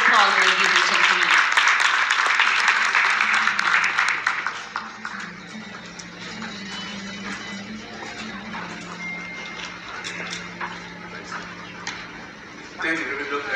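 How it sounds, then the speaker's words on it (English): A meeting audience applauds to welcome a speaker, a dense, steady round of clapping for about four seconds that then drops away as talk continues over faint background sound. "Let's give him a really warm round of applause, ladies and gentlemen."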